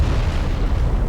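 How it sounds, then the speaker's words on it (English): An exploding spear in Dark Souls 3 goes off as a single loud, deep, rumbling blast filling the whole moment. "I have no clue why their spears explode"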